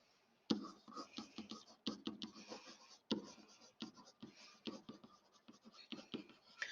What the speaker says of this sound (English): Let's write down what these shortcuts were for your notes.